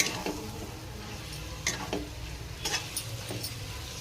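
Eggs fry in a pan for egg masala, giving a steady broadband sizzle with a few sharp clicks and scrapes of stirring, close and continuous, with no one talking.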